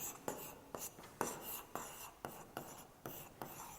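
A pen writing by hand on paper, close and quiet, with a steady run of short scratchy strokes and brief pauses between words, no talking.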